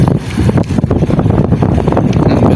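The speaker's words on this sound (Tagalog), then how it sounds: "At tsaka po mahangin." Strong wind gusting over open sea near a small boat, a loud, steady roaring rush with buffeting across the microphone, as a rain squall darkens the water offshore.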